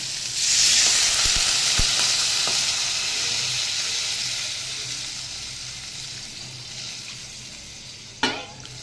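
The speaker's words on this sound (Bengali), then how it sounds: "এবারে ঝোলের যে জল সেটা দিয়ে দেবো।" A cauliflower and potato curry sizzles and fries loudly in a pan as water for the gravy goes in, a strong hiss that gradually subsides, with a few utensil knocks and a sharp clatter near the end.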